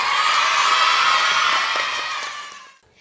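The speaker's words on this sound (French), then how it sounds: "Vous applaudissez Shreya?" An audience applauding and cheering for a finalist at a competition final: a loud, sustained wall of crowd cheers and whoops that holds steady, then fades away abruptly near the end.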